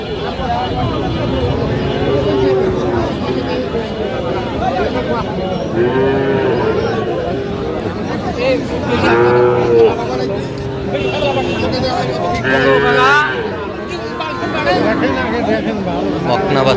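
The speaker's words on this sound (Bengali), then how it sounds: "বকনা বাছুর আমরা দেখছিলাম এখানে। লাম্পি হয়ে যায় দাগ আছে।" Sahiwal heifer calves at a Feni cattle market, some marked by lumpy skin disease, give repeated loud, drawn-out moos. People bargain and chatter around them.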